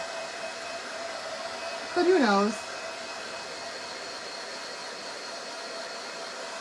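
A hair dryer drying a crackle-finish craft project blows as a steady whooshing drone throughout, and a voice briefly speaks over it partway through.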